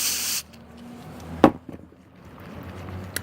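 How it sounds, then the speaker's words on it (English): Lysol disinfectant spray hisses out of the can in a short burst at the start, close and bright, followed by small handling knocks and rustles. "now we're gonna spray this."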